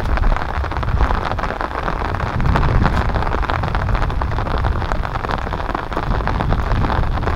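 A downpour drums on a sugarcane field in a thick, unbroken roar of falling water, loud and near, with a faint rumble beneath and no speech.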